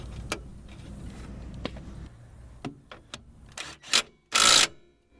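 Bolt threaded by hand into the rear suspension of a 2000 Honda Civic during a strut and upper control arm swap, giving faint scraping and a few sharp metallic ticks and clicks, ending in a brief louder rasp.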